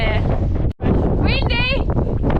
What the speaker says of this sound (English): It's very, very windy today